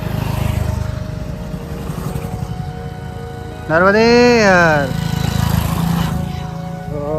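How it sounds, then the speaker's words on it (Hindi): A whole group of motorbikes passes on a rural Narmada parikrama pilgrimage route, their steady engine drone close and loud throughout, with a harmonic horn-like swell in the middle, while someone speaks over it. "अरे बाइक का पूरा ग्रुप है।"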